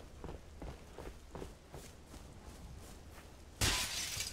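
Glass windows shatter in a sudden bright crash while footsteps run beneath, in the Halo Reach video game, preceded by several seconds of rapid running steps and game ambience.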